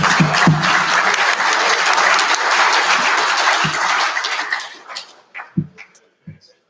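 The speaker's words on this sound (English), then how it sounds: "Let's clap" Audience clapping at a church network general assembly business session: loud, dense applause from a crowd that holds steady for about four seconds, then thins out into a few scattered, isolated claps before stopping.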